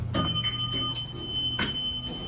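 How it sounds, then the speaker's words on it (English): Several bright elevator bells on an MEI hydraulic elevator at a parking garage in Boulder, Colorado, ring out in quick succession, clear and fairly loud, with sustained high tones between strikes. "It's nice bells. I like those bells."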